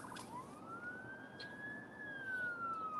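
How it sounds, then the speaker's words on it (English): An ambulance siren on a warm, sunny Rochester, New York street sweeps upward and holds a steady wail over traffic noise, growing a little louder as it passes nearby. "there goes the ambulance"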